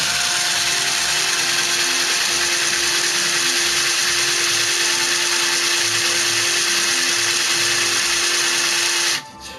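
A power drill grinds steadily through an LG phone, a loud continuous whine with a strong constant tone that runs for about nine seconds and then cuts off abruptly.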